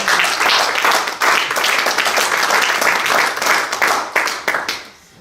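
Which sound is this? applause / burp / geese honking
applause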